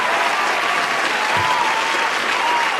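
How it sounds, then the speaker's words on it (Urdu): Sustained audience applause at an All India Mushaira poetry gathering in Bengaluru, welcoming poet Dr. Rahat Indori, a dense steady roar of many clapping hands filling the whole stretch with faint voices mixed in. "تالیوں سے استقبال کیجیے."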